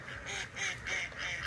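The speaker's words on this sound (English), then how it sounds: "Look at all of these ducks." A crowd of ducks gathering at a pond in Grants Pass, Oregon, calling in repeated bursts of quacking, fairly close and steady with no talk over them.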